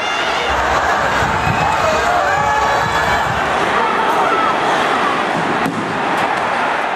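Football fans rioting in a stadium in Malang, East Java, after Arema's 2–3 league loss to Persebaya, a loud, continuous roar of a shouting crowd with scattered yells and bangs, voices mixed throughout.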